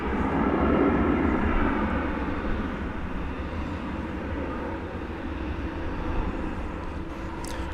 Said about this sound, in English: it's kind of almost our attempt to document this aircraft in action before it departs from our view